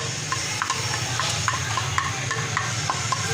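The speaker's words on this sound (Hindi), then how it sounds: "लहसुन हमारा थोड़ा सा फ्राई होता है" Garlic frying in a little oil on a stove: a steady soft sizzle with a low hum underneath and light scraping stirs recurring every half second or so, close and moderately quiet.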